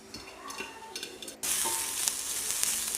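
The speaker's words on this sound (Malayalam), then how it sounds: "ശേഷം ഒരു ചീനച്ചട്ടി വെച്ചിട്ട് അതിലേക്ക് വെളിച്ചെണ്ണ ഒഴിച്ച് കടുക് പൊട്ടി വന്ന ശേഷം നമുക്കൊരു സവാള കട്ട് ചെയ്തിട്ട് അതിലിട്ടിട്ടൊന്ന് വഴറ്റിയെടുക്കണം" Sliced onion sautéing in coconut oil with popped mustard seeds in a pan: a soft sizzle that jumps to a louder, steady crackle about halfway through, close by and with no speech.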